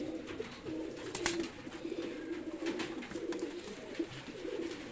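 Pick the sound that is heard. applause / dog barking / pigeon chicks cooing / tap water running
pigeon chicks cooing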